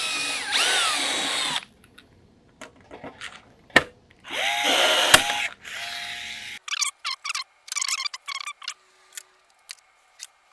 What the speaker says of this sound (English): I'm gonna have to drill it back out.